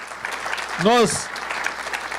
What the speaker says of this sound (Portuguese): Vamos aplaudir o Senhor por causa disso?